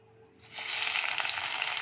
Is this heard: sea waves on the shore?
no